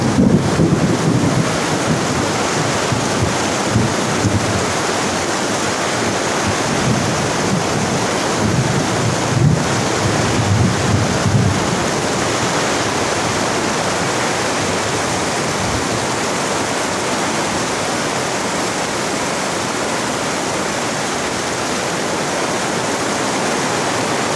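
Water runs in a steady, loud, broadband rush that continues unbroken throughout, mixed with wind buffeting on the microphone.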